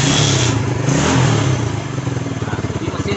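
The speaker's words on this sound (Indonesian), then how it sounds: "mesin kita hidupkan hidup" A motorcycle engine starts and settles into a running idle, loud and close, with a rough throaty rumble that turns into a steady pulsing putter.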